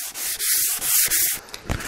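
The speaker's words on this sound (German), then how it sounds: "Jetzt schleife ich noch die ganzen Kanten alles da noch." Oak table edges are hand-sanded in a series of short, rasping strokes, close and fairly loud, each stroke a hissing rub with brief pauses between them and no talking.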